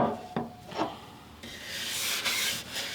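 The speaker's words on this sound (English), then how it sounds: "What I like to do when I brush is go forward and then back just like a centimeter back" A brass-nylon brush scrubs a waxed ski base in short forward-and-back strokes, making a close, dry rasping that grows into a steadier, louder scrape.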